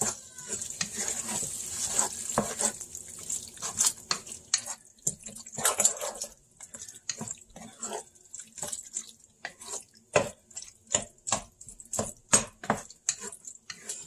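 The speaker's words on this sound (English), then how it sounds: "And give it a good stir here." A spoon stirs food in a pot during meal prep, producing a run of irregular clinks and scrapes against the pot with wet, sloshing texture, close and moderately loud.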